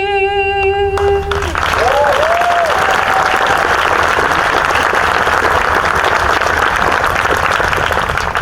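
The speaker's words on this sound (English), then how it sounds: "Can we give her another round of applause for that?" A ceremony audience at Mount Vernon applauds after a national anthem performance. Sustained crowd clapping swells in as the final sung note fades, then continues loud and steady to the end.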